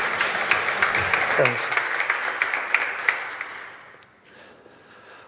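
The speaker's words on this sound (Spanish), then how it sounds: "pido un aplauso para Pedro" Conference audience applauds a speaker introduced before a talk on electrocardiogram authentication, a dense steady clapping that fades out, with a brief spoken thanks near the end.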